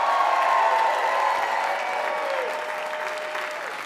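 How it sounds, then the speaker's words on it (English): Comedy club audience at Gotham Comedy applauds and cheers a comedian coming on stage, a loud wash of clapping and whoops that slowly fades. "Give it up for Dean Edwards, everybody."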